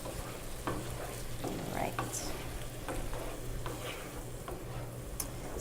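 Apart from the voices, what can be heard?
stirring curry sauce for tofu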